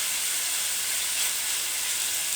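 Ground turkey frying in a pan for tamale pie, an even, close, bright sizzle that holds steady with no talking.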